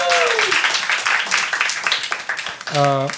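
Comedy show audience applauding two competing teams, a burst of clapping with crowd noise that swells and fades, while a voice talks over it and a musical tone sounds near the start and end.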